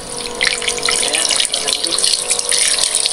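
Water runs from a tap under low pressure. It makes a steady hiss and splash that continues throughout, close and fairly loud, with no voices.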